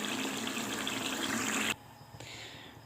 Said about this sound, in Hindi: अब हम इसमें ऐड कर देंगे पानी।